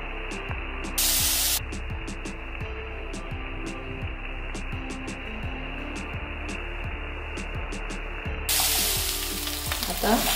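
Tomatoes sautéing in hot oil for a raw tomato tadka chutney, a steady close sizzle with scraping stirs and brief louder hissing bursts near the start and end, no voices.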